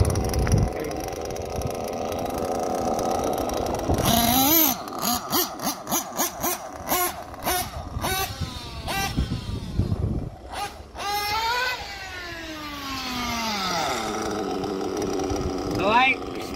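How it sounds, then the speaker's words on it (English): A Drake engine on an Associated 5th-scale gas truggy revs in sharp repeated bursts, rising and falling with throttle blips between rougher idle stretches, loud and close; a voice talks over parts of it. "Adam Drake engine is pretty much broken in. So we're going to rip it a little bit."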